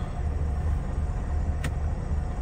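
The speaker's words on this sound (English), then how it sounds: "Let the truck warm up for a while." A JB Hunt truck engine idles steadily while warming up, a constant low rumble throughout with one brief faint whine partway through.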